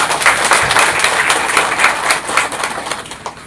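Audience at a political gathering of a Jharkhand state party president breaks into loud, dense clapping that holds steady and then tapers slightly at the end.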